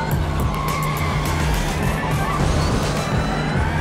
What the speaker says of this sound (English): Now slam on the brakes. Slam in the turn.